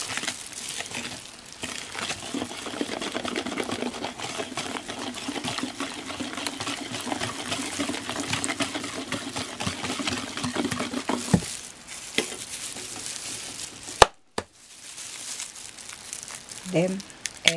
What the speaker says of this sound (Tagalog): Haluin natin mabuti.